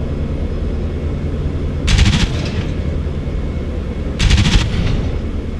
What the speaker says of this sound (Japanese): 必要であれば操縦桿のトリガーを引いて機銃の試射を行ってください